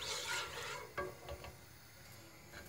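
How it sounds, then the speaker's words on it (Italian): A whisk stirs chocolate melting into milk in a pot, a soft swishing scrape with a few light clinks against the metal, faint and close, no talking. "Adesso prenderò la frusta e inizierò a girare."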